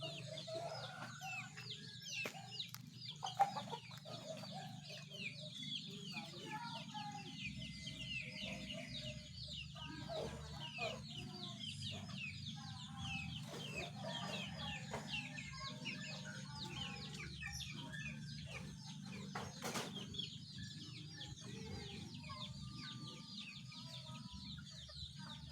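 Small chicks cheep and peep continuously at low level, with high chirps overlapping across a constant background hum on a farm, and no clear talk.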